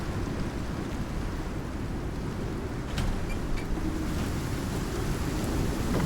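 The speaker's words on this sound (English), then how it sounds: "The worst of the storm should be past" Storm in a video game, with steady rain hissing throughout and a couple of brief cracks of thunder midway, the rain swelling slightly louder afterward; no speech.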